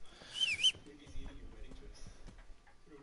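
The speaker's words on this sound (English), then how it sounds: "You just whistle for him. He just show up." A short two-note whistle calls a horse in the video game Kingdom Come: Deliverance, followed by hooves, footsteps and low game ambience.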